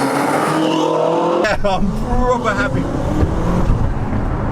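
A 700bhp BMW M6 fitted with a full Armytrix exhaust sends out loud, close engine noise. A sharp rev burst about a second and a half in gives way to a deep, rumbling drone, with someone talking over it.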